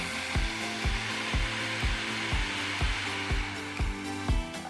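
A food processor blitzing a fava bean falafel (ta'amiyah) mixture: a loud, steady motor whine with regular rhythmic thumps about twice a second as the blade churns the thick mixture.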